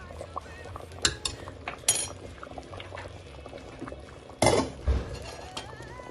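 Dry bulgur wheat poured into a pot of just-boiled red lentils, a soft grainy rush with a loud pour near the middle, scattered clinks of a spoon and pot around it, no talking.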